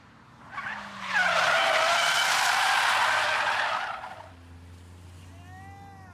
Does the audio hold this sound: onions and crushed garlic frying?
no